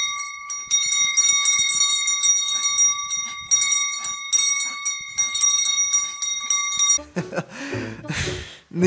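A dog rings a bell, a bright metallic ring sustaining loud and close for about seven seconds with repeated strikes, then cut short as voices and laughter take over.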